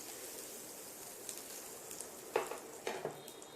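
A piece of cinnamon and bay leaves sizzle in melted butter for paneer butter masala, a faint, steady frying hiss with a couple of soft clicks and stirs.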